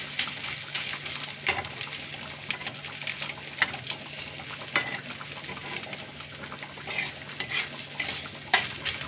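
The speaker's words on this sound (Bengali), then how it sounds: "আদাটা একটু ভেজে নেব। যাতে আদার কাঁচা গন্ধটা চলে যায়।" Ginger frying in a pan while being stirred gives a soft continuous sizzle, with intermittent scrapes and clinks of a utensil against the pan, close and moderately quiet.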